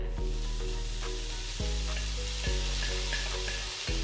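Ingredients for Nigerian beef fried rice sizzle in hot oil in a pan, a continuous loud frying hiss with occasional stirring knocks close by.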